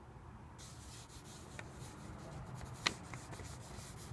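A cotton Q-tip rubbing Perma Blue bluing solution onto the metal trigger guard of a Mosin Nagant rifle, a soft continuous scrubbing hiss with one sharper scrape, quiet and close.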